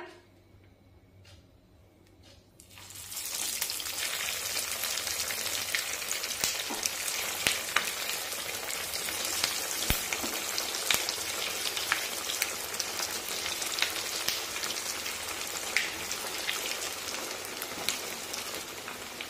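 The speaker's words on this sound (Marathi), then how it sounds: "मध्यम आचेवर वड्या तेलामध्ये तळून घेऊया" Coriander vadi fry in hot oil over medium heat. A dense, loud crackling sizzle starts suddenly after a quiet opening and holds steady, with scattered sharp pops throughout.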